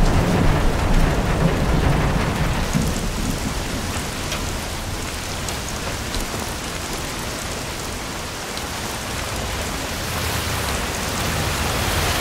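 Steady rain falling in the Bee Movie Game video game, a dense, even hiss of drops with a faint low rumble, continuous and fairly loud with no voices.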